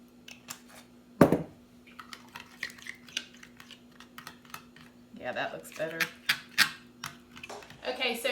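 Carne asada marinade with olive oil gets stirred together in a bowl: light clicks and clinks come one after another, with one sharper knock early and busier scraping toward the end.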